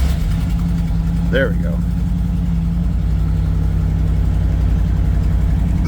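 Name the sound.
1990 Ford F250 truck engine starting and idling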